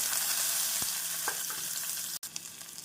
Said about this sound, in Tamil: கடுகு, ஜீரகம் பொரியவும் நாம் வெங்காயத்தை போட்டு விடலாம்.